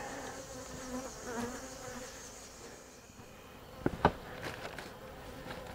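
Honey bees from a tiny swarm buzz and hum quietly close by, with a brief burst of louder rustling and taps near the end.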